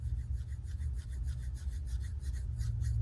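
Close, steady rasping friction from a folding knife blade being swung open and closed, with a slight gritty catch from a rough spot in the action, quiet and continuous with no talking.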